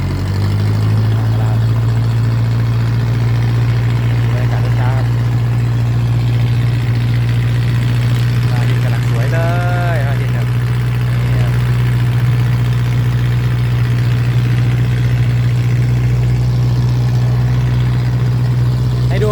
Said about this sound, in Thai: ออกมาแล้วครับเรือออกจากฝั่งแล้วจะไป อำเภอสหัสคันครับ